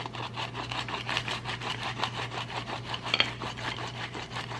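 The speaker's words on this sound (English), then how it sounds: "Then I take some garlic and I rub it." Garlic clove rubbed across slices of toasted, olive-oiled bread, giving a steady run of dry rasping scrapes in a quick back-and-forth rhythm, close and moderately loud, with no talking.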